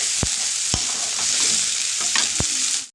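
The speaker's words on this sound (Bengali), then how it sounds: "দিয়ে ভালো করে মশলাটাকে কষিয়ে নিই" A spice masala with turmeric and red chilli powder, cooking for a chicken curry, fries in a pan with a steady close sizzle, punctuated by a few sharp spatula knocks against the pan.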